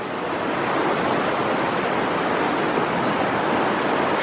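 A stream rushes beneath a footbridge on the Appalachian Trail, a loud, steady broadband wash of flowing water that holds constant throughout, with no talk.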